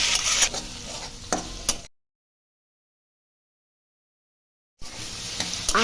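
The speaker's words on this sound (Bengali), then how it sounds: "এবার টমেটো কুচি, সাথে নুন দিয়ে কষে নিতে হবে।" Chopped tomato with salt, garlic, ginger and slit green chili sizzles and is stirred in a pan for lentil dal, soft frying hiss with scraping strokes, broken by a stretch of complete silence in the middle.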